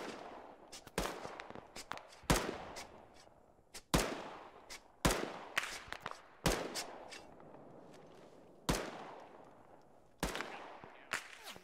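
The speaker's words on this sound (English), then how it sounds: "I'm gonna direct my shots at this guy I'm shooting at." Gunfire in ARMA 3 comes as sharp, separate rifle shots, about a dozen spaced irregularly, each cracking loudly and then trailing off in a long echoing tail, with quieter shuffling between them.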